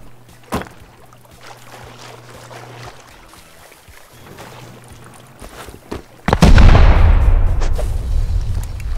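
Loud explosion in a survival-style multiplayer game during a base raid, a sudden heavy boom that bursts in after quiet background sounds and then rumbles and decays over a few seconds.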